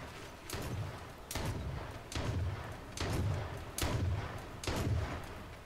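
Gunshots from the co-op survival video game H1Z1, six heavy booming reports at steady intervals of under a second, each with a low thudding body and a sharp crack, loud and close with no talk over them.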